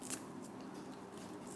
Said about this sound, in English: And this scissors, it's a herb scissors, just chop multiple at once.